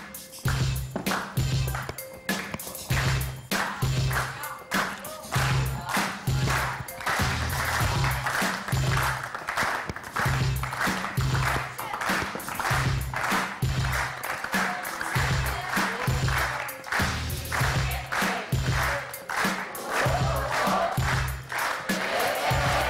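A studio audience claps in rhythm for Haitham, a crowd producing steady repeated bursts of clapping with rising cheers and shouts that build through the clip.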